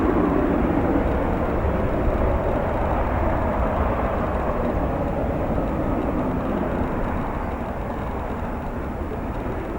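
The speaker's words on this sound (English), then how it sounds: "our Cargolux is in fact going to be taking this runway and will come right through the camera in just a few moments" Steady roar of a Cargolux cargo airplane on final approach and landing at Chicago O'Hare airport, a broad continuous rumble holding fairly loud and even throughout.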